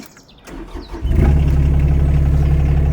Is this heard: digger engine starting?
yes